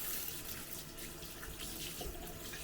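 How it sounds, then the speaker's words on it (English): Water runs from a kitchen tap into a sink while hands are washed, a faint, steady splashing stream with no talk. "So I'll wash off my hands."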